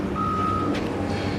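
Truck reversing at a construction site for a drainage sub-basin water recycling facility, with a steady high backup beep running for about half a second over a constant engine and site rumble.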